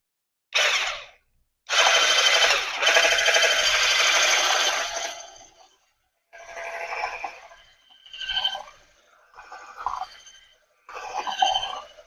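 An immersion blender fitted with its whisk attachment mixes an egg bite batter, whirring loudly in bursts: one short run, a longer sustained stretch, then several shorter pulses with brief pauses between.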